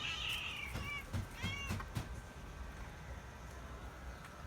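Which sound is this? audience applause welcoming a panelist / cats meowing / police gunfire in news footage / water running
cats meowing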